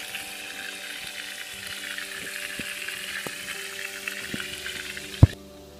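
Catfish frying in grease in a cast iron pan outdoors by a river, a steady close sizzle running throughout with faint clicks and a sharp pop near the end.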